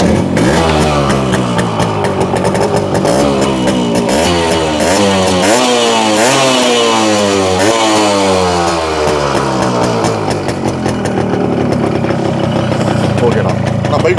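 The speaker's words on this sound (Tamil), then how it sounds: "இந்த வண்டி ஸ்டார்ட் பண்ணி காமிச்சிருங்களா?" A 1989 vintage motorcycle, third-owner bike for sale in Chennai, runs loudly up close, its engine revved in repeated rising and falling bursts before settling back toward idle.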